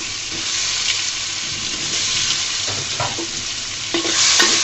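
Boiled potatoes frying in a pan, a loud, close, steady sizzle with occasional scrapes and clinks of a spatula stirring them around.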